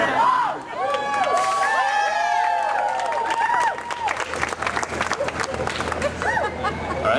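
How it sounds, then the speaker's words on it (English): Crowd applause and cheering for the performers Prisca, Paul and Aberbeats at a Tuesday night cafe show, mixed with a loud hubbub of voices and some whistles, steady and close throughout. "Can we have another round of applause for Prisca, Paul, and Aberbeats?"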